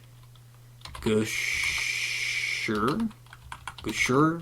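Fingers type on a computer keyboard in a quick run of soft clicks for about a second and a half, close and clear, while someone talks briefly before and after.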